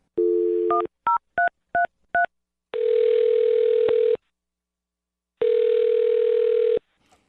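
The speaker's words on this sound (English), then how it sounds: "I'm going to dial their phone number." A telephone number is dialed: several short keypad tones in quick succession, followed by two long ringing tones with a pause between.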